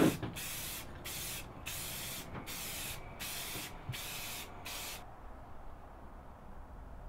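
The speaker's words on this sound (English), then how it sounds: "We're done painting the canoe." Rust-Oleum Painter's Touch Gloss sprayed onto a fiberglass canoe in six steady hissing bursts with short gaps, ending in quiet after about five seconds.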